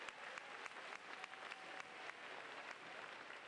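Steady applause from a large audience filling a school district convocation, continuous broadband clapping with scattered sharper claps over the full length, fairly distant and even.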